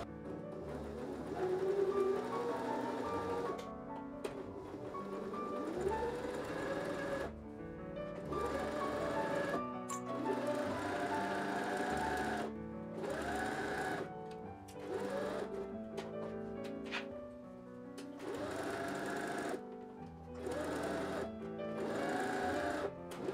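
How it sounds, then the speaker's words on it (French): A sewing machine runs a zigzag stitch around the edge of tightly woven fabric and viscose for a face mask, its motor whirring in steady bursts with short pauses between runs, close and fairly quiet, with no talking. "Je vais faire un point zigzag tout le tour."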